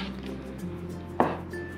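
A knife cuts through pork for Vietnamese char siu, giving two sharp, close taps against the cutting board about half a second apart over a quiet kitchen background.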